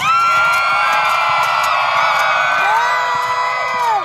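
A large crowd at a jousting faire cheers and whoops loudly and continuously for a knight, with many overlapping shouting voices.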